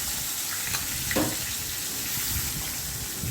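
Spice paste sizzling in a hot pan just after curry leaves are added, a steady hiss of frying with faint watery crackle, close and continuous throughout with no talk.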